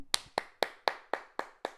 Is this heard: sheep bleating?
no